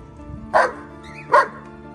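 A large, fierce-natured dog gives two loud, close barks about a second apart over a low steady background hum.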